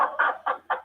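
Chicken clucking sound effect built into interactive whiteboard software, four quick clucks in a steady rhythm, clear and close with no talk.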